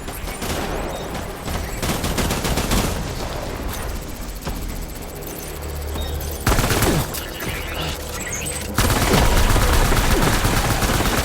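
Gunfire in the video game Death Stranding rattles in dense, continuous bursts of automatic fire, loud and unbroken, with the intensity jumping up in the final seconds.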